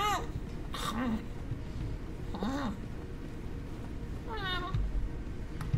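Cat meowing in the video game This Bed We Made, three or four clear, drawn-out meows spaced a second or two apart, close and fairly loud over a noisy background hum.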